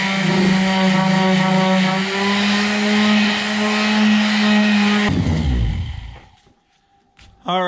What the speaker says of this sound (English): All right, let's see what this looks like sanded.